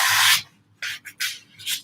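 A knife cuts a block of floral foam for a flower arrangement in a recycled ice-cream pint, making four close, dry rasping strokes, the first longest, with short pauses between and no talk.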